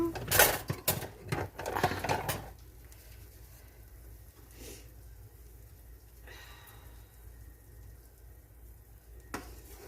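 Eggs fry in a pan with a soft, steady sizzle that runs throughout, after a busier opening of clattering and stirring noises.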